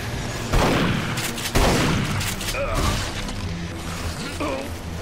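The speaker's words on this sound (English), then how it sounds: "Who's shooting me now?" Loud, rapid bursts of gunfire and impact crashes from a first-person shooter game, Duke Nukem Forever, overlapping in heavy volleys with a voice talking over the action.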